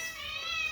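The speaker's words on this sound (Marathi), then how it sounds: "माझी मांजर आहे" A pet cat gives a short, close, fairly faint meow, drawn out and slightly wavering, heard alone without talk.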